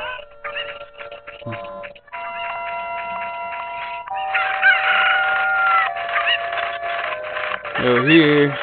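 Chickens in the video game The Legend of Zelda: Ocarina of Time cluck repeatedly and let out drawn-out crowing calls, overlapping with game music and sound effects.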